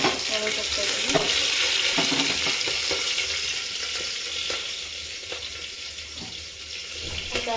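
Garlic, cumin, green chilli and curry leaves frying in hot oil give a steady, loud crackling sizzle with scattered pops throughout, close by and continuous.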